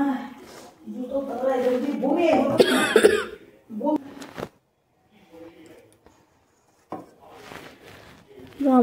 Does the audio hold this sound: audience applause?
no